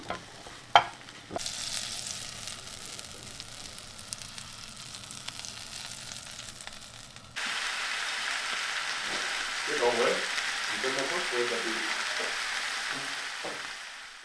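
Eggs frying in a pan, a steady hiss that jumps louder partway through, with a few clinks and scrapes and some voices in the background.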